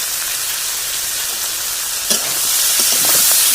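Salt, turmeric and chili powder frying in hot oil for a tilapia fish curry with lotus taro stems: a steady, close hiss of sizzling that swells louder near the end after a single clink from a stirring spoon.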